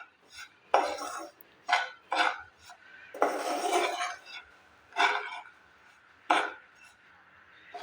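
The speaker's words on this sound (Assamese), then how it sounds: "আপোনালোকে চুজি আৰু বেচনখিনি ভালদৰে ভাজি ল'ব।" Besan and semolina are stirred in a pan, a spoon scraping in repeated rasping strokes with short gaps between, close and clear, with no talking.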